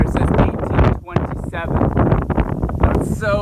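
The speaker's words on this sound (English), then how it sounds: "It's so windy right here" Strong wind buffets the microphone on St. Croix in loud, uneven gusts, with a person talking over it.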